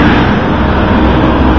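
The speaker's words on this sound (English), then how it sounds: "Loud ass buses" Loud SEPTA buses idle and rumble at one of the main transit stations, a dense steady roar of engines and road noise up close with no pauses.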